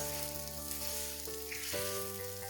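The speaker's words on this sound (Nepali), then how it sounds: "अब भिन्डी राम्ररी फ्राई भएको छ, एकदमै क्रिस्पी भएर यो फ्राई भएको छ" Okra frying in a pan over medium-high heat until crisp, a steady close sizzle throughout with a faint tonal hum underneath and no talking.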